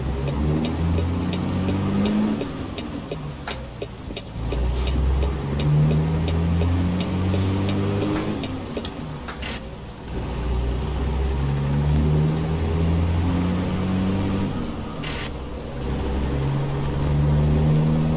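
A C15 truck engine in American Truck Simulator drones and revs steadily with rising and falling pitch, with a rattling Jake brake growl in places, no voices.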